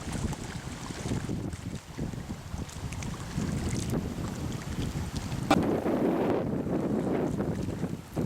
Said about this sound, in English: Apparently they didn't like the idea of sitting out in the bay in all this chop that the wind has blown up.